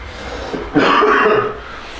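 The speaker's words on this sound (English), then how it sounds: "because I was coughing a little bit" A man coughs once, a short rough burst close to the mic that trails off into a brief breathy tail, with quiet room tone before and after.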